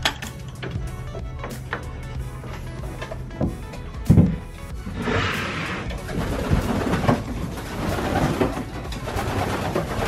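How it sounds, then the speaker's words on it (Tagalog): Soft racing pigeon coos and shuffling wings inside a loft, mixed with scattered clicks and knocks, quiet and close. "Ayan, pakinin natin sila mga kalapatids."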